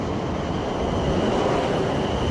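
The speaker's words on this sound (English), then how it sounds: "Portsmouth trains were supposed to come every half an hour, but another one just turned up." A Portsmouth train rumbles in, a continuous broad roar of wheels and carriages rolling close by, with no voices over it.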